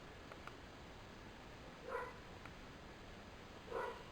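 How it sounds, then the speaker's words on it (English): Dogs barking faintly in the background of a home, two short bursts of barks about two seconds apart over a quiet room hiss. "I apologize for my dogs barking in the background there."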